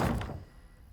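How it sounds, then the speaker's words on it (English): A heavy door in a video game unlocks and swings open, a single dull thunk at the start fading quickly into a low resonant tail. "The door has been unlocked."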